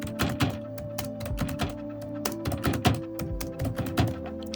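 Numbers typed rapidly on a computer keyboard, a busy, irregular stream of close, solid key thunks and clicks with no talk.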